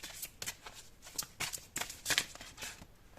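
Tarot cards riffle and slap in quick repeated bursts as a deck is shuffled to draw the next card, close up, crisp and uneven, with no talking.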